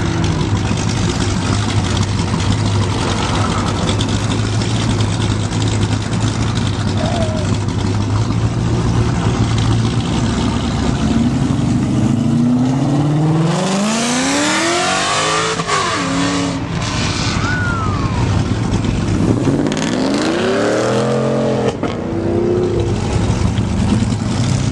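Honda cars rev hard as they pull away from a car meet, engine notes rising and falling in two loud sweeping passes over a steady low rumble of idling traffic.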